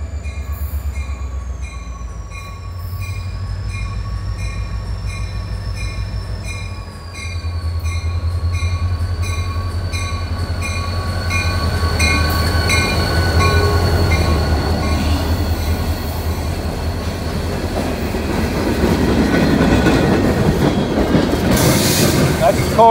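A freight train of covered hoppers and tank cars rolls past a railroad crossing on a Sunday, a steady close rumble with rail clatter and high wheel squeal throughout, building louder toward the end.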